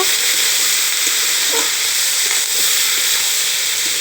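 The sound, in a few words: panta bhat rice being stir-fried in a wok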